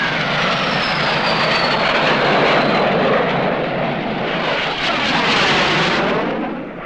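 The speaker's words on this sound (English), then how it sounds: "This is the French Air Force team flying Fuga Magister trainers." French Air Force Fouga Magister jet trainers fly aerobatics at an air meeting, a loud sustained jet roar with shifting whine as the aircraft pass overhead, fading slightly at the end.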